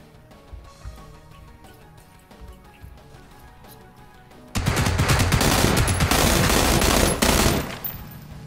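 Loud burst of sustained automatic gunfire in PlayerUnknown's Battlegrounds, a squad match, erupting after a quieter stretch of game sounds and rattling on for about three seconds before cutting off.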